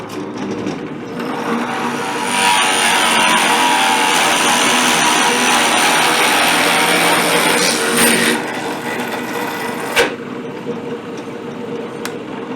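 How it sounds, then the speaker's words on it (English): A drill press drives a spade bit through wood clamped down on the table, a sustained grinding, rasping whir that swells as it cuts and then eases off near the end. "So over on the drill press, we line the hole up with the point of the spade bit."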